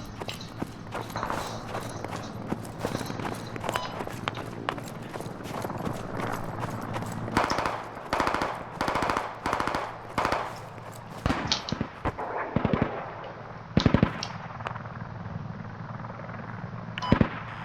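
Gunfire in the military shooter game Squad comes as sharp, irregular cracks and short bursts, some loud and close and others more distant, scattered over a low background rumble.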